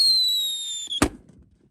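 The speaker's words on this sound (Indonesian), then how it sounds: "Selanjutnya kita nyalakan mercon whistling thunder." A whistling thunder firecracker shrieks with a steady high whistle for about a second, then cracks into one sharp, loud bang that quickly fades.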